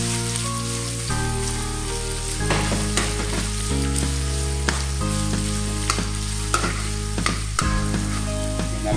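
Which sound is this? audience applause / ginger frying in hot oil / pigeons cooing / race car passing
ginger frying in hot oil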